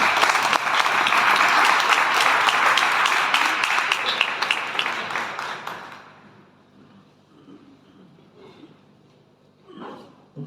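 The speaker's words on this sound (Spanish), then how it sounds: "un fuerte aplauso para ellos" Conference audience applause, a loud, dense burst of clapping that continues evenly for about five seconds, then fades away into a quiet room with faint scattered sounds and a brief murmur near the end.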